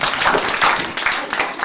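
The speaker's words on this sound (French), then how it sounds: "Là, vous pouvez applaudir" An audience bursts into steady, dense applause that fills the space at close range, with a few excited voices calling out over the clapping.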